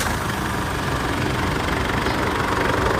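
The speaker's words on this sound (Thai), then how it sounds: "ทำการสตาร์ทเครื่องยนต์เลยครับ" An Isuzu D-Max pickup's diesel engine, recently repaired and awaiting overhaul, idles with a steady, low, knocking rumble close by, unbroken throughout.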